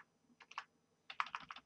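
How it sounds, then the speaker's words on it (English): Quick bursts of keyboard typing, a short flurry of clicks, a pause, then a longer run of keystrokes, close and fairly quiet. "Keep typing,"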